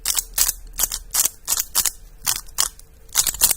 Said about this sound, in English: I'm not sure if you can kind of hear that clicking sound, but so yeah, there's a dislodge magnet